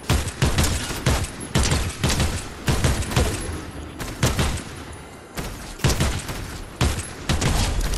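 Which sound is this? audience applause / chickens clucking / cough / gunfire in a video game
gunfire in a video game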